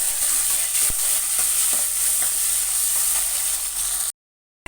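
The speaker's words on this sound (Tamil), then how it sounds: "சேர்த்துட்டு நல்லா வதக்கிக்கலாம்." Garlic, onion and tomato sautéing in oil in a pan for a Tamil-style dry anchovy fish curry, giving a steady close sizzle with occasional stirring scrapes, then cutting to silence near the end.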